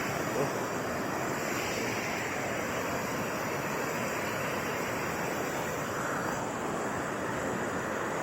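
Continuous rushing of a flowing river beside a coffee plantation in Lahat, South Sumatra, a steady broadband wash with no breaks, fairly close and moderately loud.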